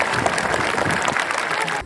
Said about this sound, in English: can we have one more round of applause for our staff?